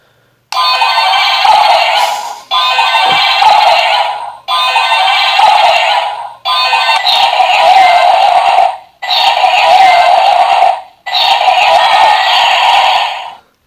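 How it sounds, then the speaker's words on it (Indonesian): Six loud, tonal electronic bursts of the Z-Lance Arrow effect sound from a bootleg Chinese-version DX Beliarok toy sword from Ultraman Z. Each lasts about two seconds and is followed by a short gap, with no voices. "Oke, jadi ini suara Z-Lance Arrow."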